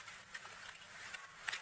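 A quiet bed of nature ambience used as background texture in an electronic track, with soft insect-like buzzing, faint patter and small rustling ticks blending into a steady hiss.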